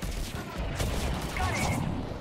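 Artillery fire in Mass Effect Legendary Edition: a dense, rumbling barrage of blasts and crackling impacts runs steadily through a short stretch, loud and close.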